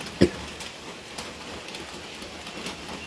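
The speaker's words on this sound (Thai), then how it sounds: "ฝนตกกันหลวงพ่อตอนนี้ฝนตกหนักเลย" Heavy rain drums on a roof as a dense, steady hiss of patter, with a few sharper taps and knocks standing out, and no speech.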